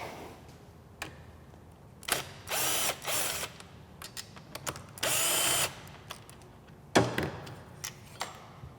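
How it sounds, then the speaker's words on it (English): Ratchet and power tool working the 10 mm brake caliper bolts on a Polaris Timbersled snowbike conversion: quick clicking ratchet strokes mixed with several short whirring bursts of a drill, close and crisp, with clanks between. "Now we're going to remove the brake caliper, 10 millimeter on this bike."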